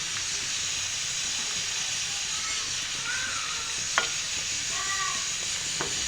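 Halved chilies fry in oil for mutton biryani, giving a continuous loud sizzle and hiss, with a few sharp ladle taps against the pan as they are stirred.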